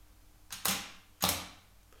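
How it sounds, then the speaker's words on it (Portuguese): A camera shutter fires twice while taking a macro photo with extension tubes, each a crisp mechanical clack with a short opening and closing, close and clear against quiet surroundings. "Eu vou tirar uma foto aqui agora para vocês verem."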